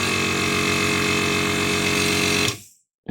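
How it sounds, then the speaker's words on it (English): Tank air compressor running nearby with a steady, loud mechanical drone and rhythmic pumping pulse, cutting off abruptly into silence after a couple of seconds. "And here's the tank compressor."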